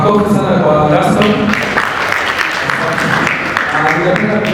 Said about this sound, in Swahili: Makofi sana kwa Gaston.